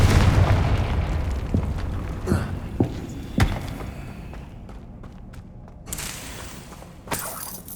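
A Confringo spell explodes in Hogwarts Legacy with a loud booming blast. Several sharper cracks and shattering bursts follow at intervals as the rumble fades.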